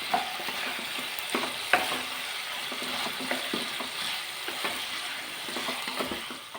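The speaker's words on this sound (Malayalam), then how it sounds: "സോസൊക്കെ ഇടുമ്പോൾ നന്നായിട്ട് പിടിച്ച് വരുമ്പോൾ നമുക്കൊന്ന് ഇതിലൊക്കെ വഴറ്റിയെടുക്കാം" Chicken 65 sautéed with sauce in a pan, a steady sizzle overlaid with irregular scraping and clattering of a spatula against the metal, close and continuous.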